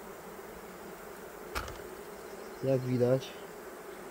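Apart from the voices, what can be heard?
honeybees buzzing in a hive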